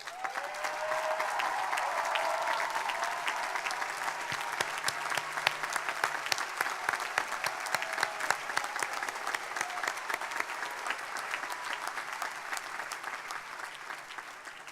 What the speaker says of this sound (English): Will the family members of our students please stand so we may recognize and applaud your love and support.